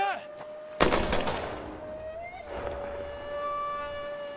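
A single loud gunshot rings out during troop shooting training in a zombie film, a sharp crack with a long echoing tail over a sustained tonal film score that carries on afterward.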